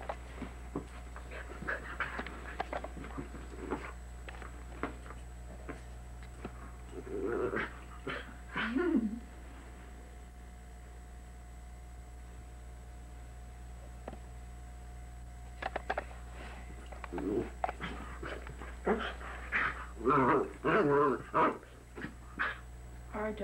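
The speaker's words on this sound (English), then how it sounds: "Our dog has a fit." A pet dog pants and whimpers during a fit indoors at a 1984 Thanksgiving gathering, bursts of breathy panting and whines coming in clusters over a low steady hum, with people talking in between.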